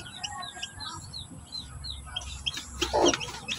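Newly hatched chicks chirp in short, high, repeated peeps close by, scattered over a low rustling background that grows a little busier toward the end.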